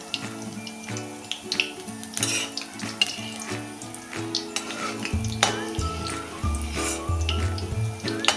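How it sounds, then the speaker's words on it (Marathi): Sweetcorn bhaji fry in hot oil with a steady crackling sizzle and scattered pops, close and moderately quiet, with occasional clinks of utensils. "ही चांगली खरपूस तळून घेऊया बघा आता तेलाचे बुडबुडे कमी झालेत"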